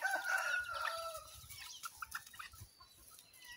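Native range chickens calling close by: a rooster's crow-like call opens, followed by a few soft, scattered clucks, brief and fairly faint with no talk.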